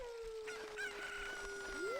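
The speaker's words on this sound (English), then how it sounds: "Also, we need this chicken." A chicken in The Legend of Zelda: Ocarina of Time gives a short crowing, clucking call, with a tonal electronic game hum and rising synth sweep around it, quiet and clear.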